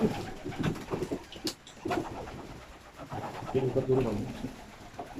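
Balloon pouter pigeons coo in deep, throaty repeated calls close by, with people murmuring and rustling in the background.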